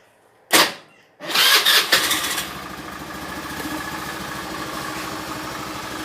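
Honda Beat fuel-injected scooter with low compression: a short starter whir, then the engine catches and settles into a steady, even idle close by.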